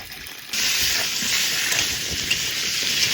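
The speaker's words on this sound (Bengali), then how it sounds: "তেল গরম হয়ে গেছে, এবার আলু দিয়ে দেবো।" Thick, large-cut potato chunks drop into hot oil in a village-style kitchen. A loud, steady sizzle bursts in after a brief quiet moment and keeps crackling evenly throughout.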